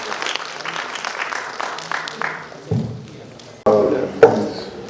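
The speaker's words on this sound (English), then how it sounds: "So a big round of applause for our ambassador." An audience at a book-launch session claps for an ambassador, a burst of applause that thins out and gives way to shuffling, handling noises and a voice near the end.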